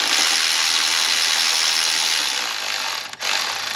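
A valve spring compressor is tightened down onto a valve spring retainer of a Ford Falcon XR6 Turbo Barra engine. It gives a continuous close ratcheting, clicking rattle that ends in one sharp click.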